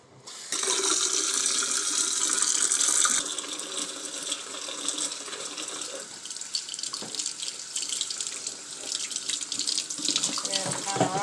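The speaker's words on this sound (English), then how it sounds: "I'm going to run it under cold water and squeeze it out and then let it drip a little bit more" Cold tap water runs steadily into a sink, rinsing and squeezing homemade cheese curds, a continuous close splashing stream that softens slightly after the first few seconds and carries on to the end with light handling noises.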